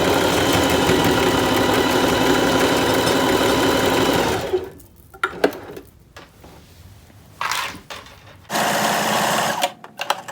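A sewing machine runs fast and loud while zigzag stitching across a quilted jacket, then stops and starts in short bursts before one more steady run near the end.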